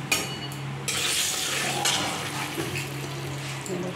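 Prawns hit hot oil seasoned with salt and turmeric, giving a steady close sizzle and frying hiss with a few stirring and pan clinks, no voices.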